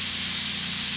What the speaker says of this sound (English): I'm gonna drop my KV and my microamps back down really low and then spray clear over here